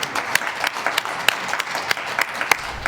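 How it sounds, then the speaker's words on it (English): An audience claps for a guest on a talk show, a short burst of brisk, uneven applause with individual hand claps standing out. "Let's give him a round of applause."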